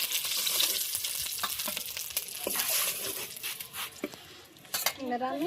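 Pigeon-variety eggplant and other vegetables sizzle in a pan, with a steady hiss broken by clinks and scrapes of a spatula and utensils against the pan.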